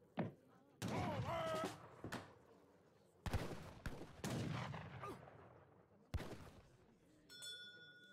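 Musket volleys from a town center firing at musketeers in the strategy game Age of Empires III: several sharp, separate shots with gaps between them, mixed with battle clinks and brief game voices.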